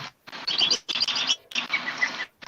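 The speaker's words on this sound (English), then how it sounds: "The birds are very soothing." Birds chirp and tweet outside a window in a short run of bright, twittering calls. The calls come in three bursts separated by brief gaps and sound fairly close and clear, with no talking.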